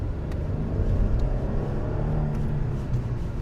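A Hyundai Genesis V6 running at idle: a steady, low, smooth engine rumble with a faint whir, even and close, with no speech.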